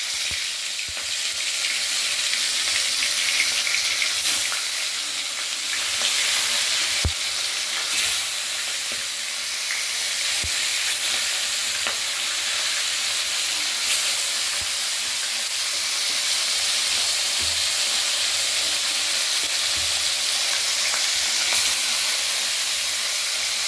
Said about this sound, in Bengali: তেল গরম হয়ে গেছে স্লাইট একটু নুন ছড়িয়ে দেব যাতে মাছগুলো তেলে লেগে যাবে না এবার মাছগুলো আস্তে আস্তে ছেড়ে দিচ্ছি